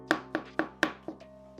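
A knife chops mushrooms on a cutting board, sounding as five sharp, evenly spaced thuds close by, with a brief faint tone trailing after the last cut.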